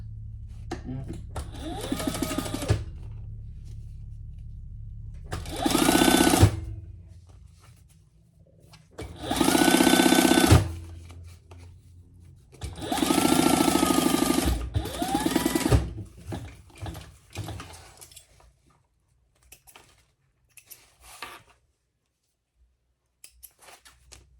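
A sewing machine bastes cork fabric for a bag, running in several short loud bursts of rapid whirring stitching separated by pauses, with quiet handling noises and a voice talking in between.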